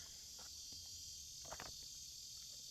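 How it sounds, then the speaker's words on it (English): Crickets and other insects chirr steadily in a continuous high drone outdoors at night, quiet and even, with a few soft handling or step sounds close by. "So now I'm outside in the bugs."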